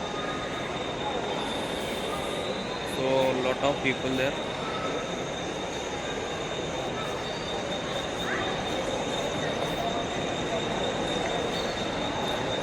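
A train rumbles through a busy Mumbai station as a broad, continuous roar with a brief clatter of wheels and a faint high squeal, while someone speaks briefly over the noise.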